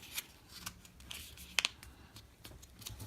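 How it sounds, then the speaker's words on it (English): Paper sheets being folded into a small no-glue notebook: soft, crisp rustling with a few sharper creasing snaps near the middle, close up and fairly quiet, with no talking. "To create your pages, you fold this in half, fold it again,"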